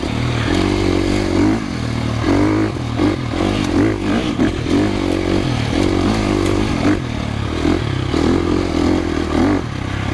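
A 2025 KTM 350XCF dirt bike revs hard nearby, its engine rising and falling through several throttle bursts and shifts, with clattering from the chassis under a continuous loud roar.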